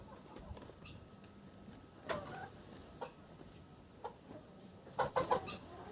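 Cochin hens clucking softly nearby, a few short faint clucks and pecking sounds scattered over a quiet background, with a brief cluster of sharper calls near the end; no talk.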